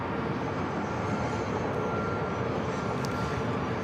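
An Alaska Airlines Boeing 737 MAX 9 takes off from San Diego airport bound for Kona, its jet engines a dense, constant roar filling the whole few seconds without a break.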